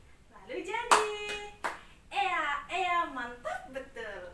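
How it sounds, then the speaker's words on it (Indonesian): Hand claps in a classroom clapping game: a sharp clap near one second and another soon after, mixed with a woman's lively speech and counting, fairly close and clear. "Tepuk 1 kali, tepuk 2 kali, tepuk 3 kali."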